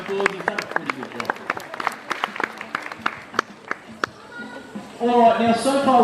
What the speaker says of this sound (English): Let's give the little fella a round of applause.